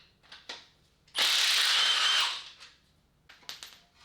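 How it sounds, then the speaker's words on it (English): Wrench working a head bolt on a GM L83 engine, giving one loud sustained ratcheting burst of about a second, with faint tool clicks and taps before and after, close-up. "This front one looks like it's gonna need a giant Allen wrench."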